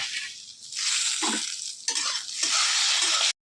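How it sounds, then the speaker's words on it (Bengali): Lentil dumplings (bori) fry in hot oil in a pan with a loud, steady, close-up sizzle and crackle, broken by a few brief stirring scrapes and a short drop near the end. "একটু তেল দিয়ে দিলাম তেলে বড় করে ভেজে নেব"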